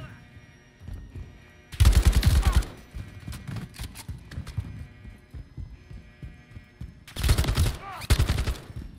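An enemy gunner in the Call of Duty MW3 campaign fires two loud, close bursts of rapid automatic gunfire, separated by quieter scattered shots and background battle noise.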